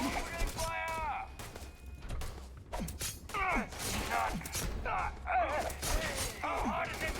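Gunfire in the Starfield Crimson Fleet game: bursts of shots and impacts, with sci-fi sweeps and mechanical clanks mixed in, under a busy game soundtrack and a speaking voice.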